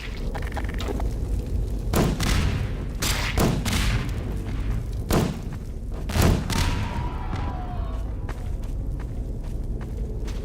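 Grenade explosions in the Dark Interval video game, a series of sharp booms and thuds spaced every second or two over a constant low rumble, mid-distance and fairly loud, no speech.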